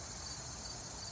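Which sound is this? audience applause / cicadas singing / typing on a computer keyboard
cicadas singing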